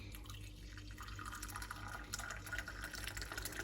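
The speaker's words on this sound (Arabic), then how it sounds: "غادي انايا ندير ماء مغلي" Boiling water poured into a glass gives a faint, steady trickle and splash that runs throughout, quiet and close with no talking.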